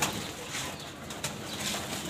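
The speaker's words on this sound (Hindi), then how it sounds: "ये देखें दोस्तों सारे कबूतर जो है ना इसमें ब्रीडर हैं दोस्तों" Pigeons kept in breeder cages give soft, low cooing against a quiet, steady background, with a faint rustle or wing flutter now and then.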